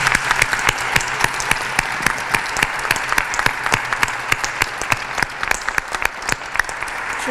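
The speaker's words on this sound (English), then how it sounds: "the panelists deserve a big round of applause" A conference audience applauds a panel, a dense burst of many hands clapping steadily and loudly throughout, close and continuous with no speech over it.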